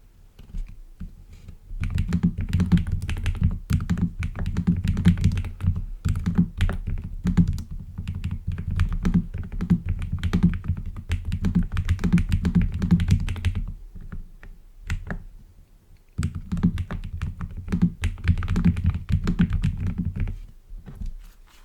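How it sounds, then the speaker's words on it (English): Fingers type steadily on a backlit computer keyboard, close and clear, in long runs of rapid clicking keystrokes separated by two brief pauses. "What do you think I was typing?"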